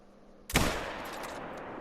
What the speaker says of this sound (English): Hopefully that big buck in the back does not hear the gunshot.